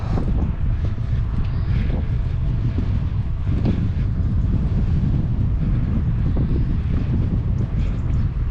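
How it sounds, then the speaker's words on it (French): Strong wind buffets a microphone outdoors at a bird reserve in spring, a steady loud low roar with gusty surges throughout and no clear voice. "Alors désolé pour le vent."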